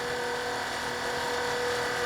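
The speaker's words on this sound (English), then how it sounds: "start the macerator pump." A Flojet macerator pump draining an RV gray tank gives a steady, loud mechanical whir and hum up close, unbroken for the whole two seconds, with no voices.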